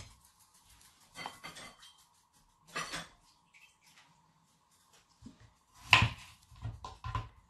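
Pots and metal utensils clink and clatter in a home kitchen as potatoes are set to boil, a few separate bursts of knocking and scraping with quiet gaps between, close by.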